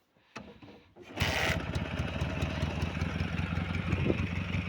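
A restored K-750 motorcycle engine starting: a few cranking thumps, then it catches and settles into a loud, steady, rapidly pulsing idle close by, with no talking.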